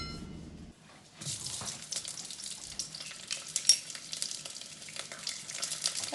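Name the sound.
onions frying in oil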